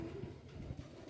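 A pigeon with a purple throat coos nearby, a soft low burbling sound that runs steadily through the moment with no talking over it.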